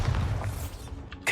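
A Bombarda spell explodes in a wizarding video game, a short deep boom that rolls off quickly, followed by a brief sharper burst near the end.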